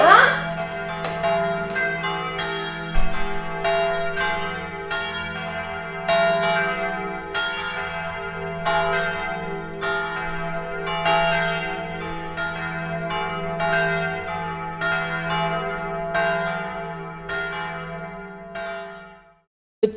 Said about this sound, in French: il y a les cloches de l'église là qui sonnent